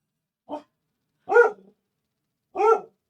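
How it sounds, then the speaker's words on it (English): A pet dog barks from the back of a room in three separate, fairly close bursts: one short yip, then two fuller barks spaced about a second apart, with no talking over them. "My dog is very vocal in the back."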